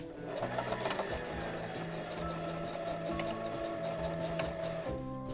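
A sewing machine stitching strips of patchwork fabric together, a steady rapid mechanical whirring and clatter running continuously up close, then slowing and stopping near the end.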